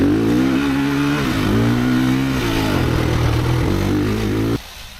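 A Ducati Desmo 450 MX motocross bike engine revs loud and close, rising and holding at steady high pitch with brief dips between pulls, then cutting off abruptly near the end.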